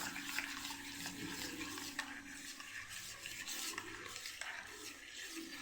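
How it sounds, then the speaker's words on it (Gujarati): Farali dhokla batter is mixed with a full pouch of Eno and fresh lemon juice, making quiet scraping and stirring strokes with a few light clinks against the bowl and no voices. "બધું સરસ આપણે મિક્સ કરી દેવાનું છે"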